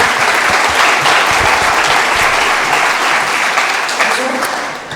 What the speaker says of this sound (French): sous des applaudissements chaleureux